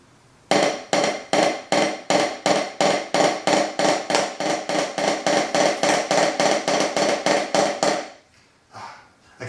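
A drummer plays a fast diddle rudiment drill, alternating right and left strokes, as a rapid, even run of sharp hits that lasts about seven seconds and then stops.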